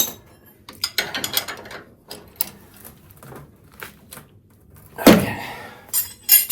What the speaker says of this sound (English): This wrench sucks shit.